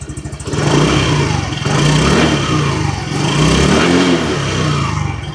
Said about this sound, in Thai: เดี๋ยวจะลองเร่งเครื่องสักนิดหนึ่ง